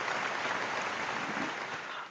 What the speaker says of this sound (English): Let me give myself a hand clap